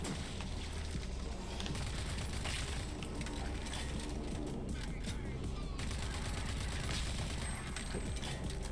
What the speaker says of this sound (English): He just chucked 2 grenades in a row.